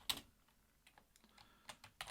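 Sharp computer keyboard and mouse clicks while adding drum notes in GarageBand, a handful of quiet, irregular taps with a louder click at the start and near the end.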